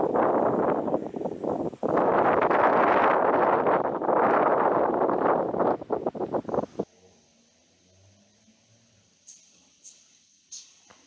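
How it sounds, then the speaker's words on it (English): Strong gusts buffet the microphone at a Blue Mountains lookout in New South Wales, a loud roaring rush for several seconds that cuts off abruptly, leaving faint rustling and small clicks. "The wind is picking up speed."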